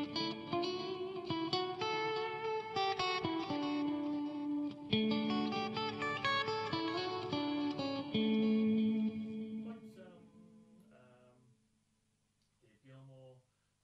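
An electric guitar on its bridge and middle pickups plays clean, chorus-tinged chords and melodic notes through a Jet City JCA50H amp, ringing out before fading to near silence.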